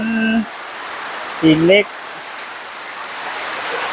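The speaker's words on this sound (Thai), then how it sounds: "วันนี้ฝนมา" Steady rain hisses on a surface outdoors, continuous and fairly loud, while a person speaks briefly over it.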